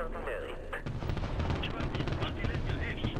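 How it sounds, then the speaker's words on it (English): Artillery fire in an online shooter video game, a dense rattle of gunfire and booming shots that runs continuously and fairly loud for the whole stretch, with no voice over it. "But now I'll drop some arty on you,"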